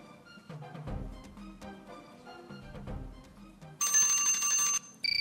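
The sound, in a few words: quiz time-up bell ringing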